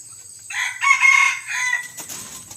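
A rooster, a hybrid with jungle fowl, gives a single loud crow that rises, holds and trails off, clear and close over quiet background clucking.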